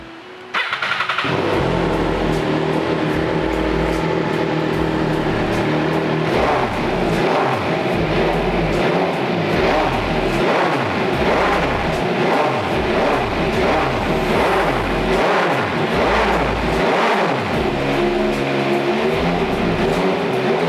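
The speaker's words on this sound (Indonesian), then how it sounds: "Oke, kita coba nyalain mesinnya yuk." An MV Agusta Veloce three-cylinder motorcycle engine cranks, catches and settles into a loud, close idle broken by repeated throttle blips that rise and fall.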